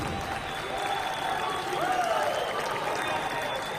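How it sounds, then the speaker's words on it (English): A wrestling crowd in an arena in Shenzhen applauds and cheers steadily throughout, a dense continuous wash of clapping and crowd noise with a commentator's voice running over it. "Crowd here in Shenzhen appreciating"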